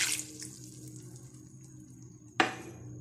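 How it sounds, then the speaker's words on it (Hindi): A cup of water poured into a cooking pot of beans with tomatoes, garlic and onion: a brief bright splash at the start, then a second louder gush of running water near the end, over a low kitchen hum. "1 कप पानी ऐड करने लगी हूँ इसके अंदर"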